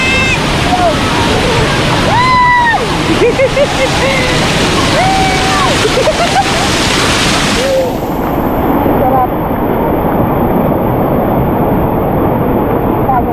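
Strong current of water rushing at a hidden waterfall in a secluded natural paradise, a loud, steady wash of churning water filling the whole scene, with voices talking and calling out over it.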